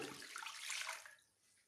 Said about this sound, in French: On met l'eau.